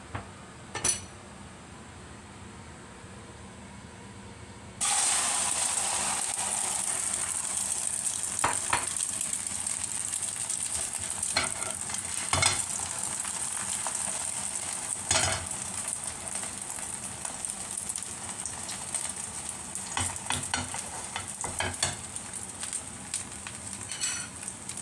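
Okra drops into a hot pan and a sudden bright sizzle bursts out after a quiet start, then keeps frying steadily with occasional clinks and scrapes of a utensil against the pan.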